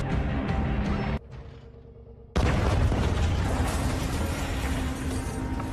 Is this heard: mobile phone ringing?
no